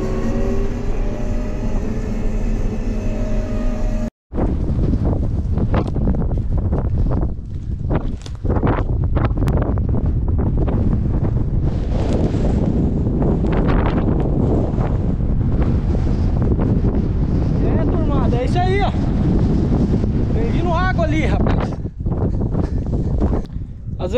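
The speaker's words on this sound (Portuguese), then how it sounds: "E a ventania da chuva já chegou aí também, ó." Strong gusting wind ahead of rain sweeps over a farm at the end of the corn harvest, roaring loudly and continuously into the microphone after a brief cut.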